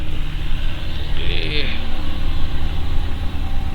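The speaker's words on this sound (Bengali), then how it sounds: "বাইকের সাউন্ড শুনছেন" A motorcycle engine rumbles steadily nearby on a hill road, a low throbbing drone that continues throughout with a brief higher whine in the middle.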